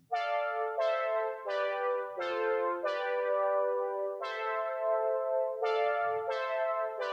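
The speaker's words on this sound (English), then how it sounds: "the second one is this more brighter one with a quick envelope to it, like a brassy kind of envelope" Bright, brassy synth pad from Odin with a quick envelope, sounding a string of punchy chord stabs that decay quickly, each sharp attack followed by a short tail, played alone and up close.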